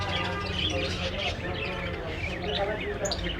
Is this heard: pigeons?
yes